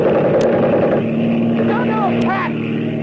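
A motorboat engine drones steadily with wind and water noise, while people shout briefly over the roar.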